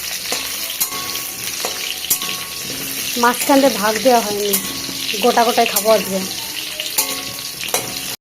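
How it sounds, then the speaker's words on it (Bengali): Whole potatoes fry in hot oil in a home kitchen, a steady crackling sizzle punctuated by stirring and spatula scrapes, with someone talking over the cooking. "এখানে আলুগুলো ভেজে নিচ্ছি।"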